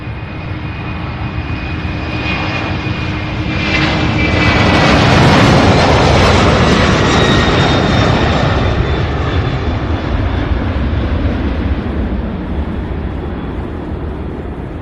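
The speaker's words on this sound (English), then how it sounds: "Can't hear ATC on the count of all these jet engines anyway" Loud, steady roar of jet engines at Louisville airport (SDF) swells to a peak midway and slowly fades, a continuous rumbling whine with no voices.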